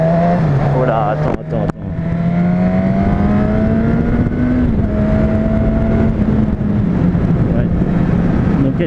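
A Suzuki Katana motorcycle engine revs loudly and close up, holding a steady droning pitch that rises slowly and then eases off, with a brief dip near the start and someone speaking over it.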